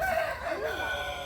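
Chickens on a poultry farm ringed with shade trees cluck and call, with a rooster-like crowing phrase rising and falling, faint and somewhat distant over a low background hum.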